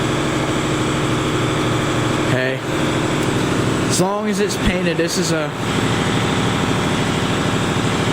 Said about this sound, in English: Shut this air compressor off.